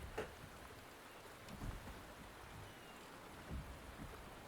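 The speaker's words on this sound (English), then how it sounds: "The rain is subsiding, and the sky will soon clear." Steady rain and rolling thunder in the video game Wuthering Waves, a constant soft patter with a few low, distant rumbles and cracks spaced through the clip.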